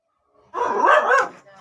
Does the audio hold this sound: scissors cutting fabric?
no